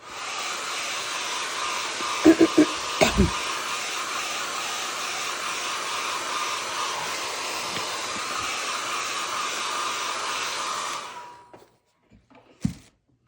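A heat tool or dryer blows steadily over layered orange and pink paint on an abstract mixed-media piece, a loud continuous roar lasting about eleven seconds with a few knocks and handling sounds before it cuts off.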